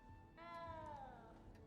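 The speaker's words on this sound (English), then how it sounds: "You don't need to be frightened, little cat." A small cat meows once in the Hogwarts Legacy video game, a single drawn-out, slightly falling meow heard clearly over a quiet low background hum.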